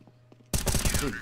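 Counter-Strike gunfire, a sudden dense burst of rapid shots starting after a quiet moment, loud and continuous to the end, with game sounds underneath.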